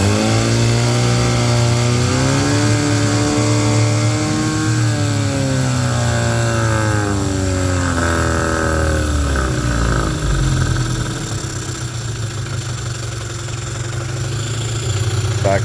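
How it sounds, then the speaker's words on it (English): A 1997/98 Mercury 15hp long-shaft two-stroke outboard motor runs close and loud, its buzzing drone climbing and wavering in pitch as the throttle is opened fast, then easing back toward a lower steady idle. "So it's slow throttle. I'll do it fast throttle."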